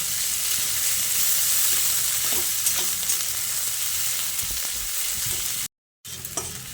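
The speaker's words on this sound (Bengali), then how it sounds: "এবার কাঁচা লঙ্কা আর পেঁয়াজটা দিয়ে আরও কিছুক্ষণ নেড়ে চেড়ে ভেজে নেব।" Onion and green chillies stir-frying in a pan for a susni shak dish with potato and brinjal, a continuous bright sizzle with light spatula scrapes, close up, briefly cutting out near the end.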